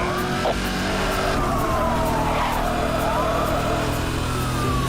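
Corvette racing in a video game, a steady loud engine drone with gliding tire-skid squeals and a faint siren-like tone threaded through, continuous for the whole stretch.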